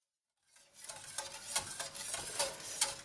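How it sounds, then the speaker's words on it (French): Flour and water paste is stirred in a saucepan over low heat, giving a steady scraping, swishing texture with soft repeated clicks of the utensil against the pan, near and moderately quiet, starting after a brief silence. "Et je mélange tout simplement."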